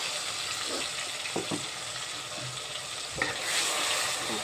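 Ginger, garlic and onion paste sautéing in a pan gives a steady, loud sizzle throughout, with a few soft stirring scrapes and knocks now and then.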